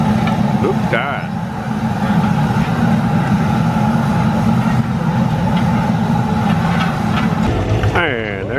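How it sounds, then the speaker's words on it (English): A train rolls past at a rice festival, a heavy continuous rumble with mechanical clatter underneath. People talk over it, and it fades toward the end. "And there goes a train again."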